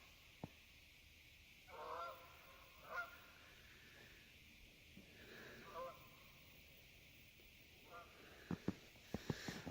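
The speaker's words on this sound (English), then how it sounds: "You can see the geese." Several geese honk in short bursts at a moderate distance, with quiet gaps between calls and a few sharp knocks near the end.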